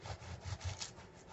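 Rhythmic back-and-forth sawing of a knife through bread and filling, several rasping strokes, close up with no talking.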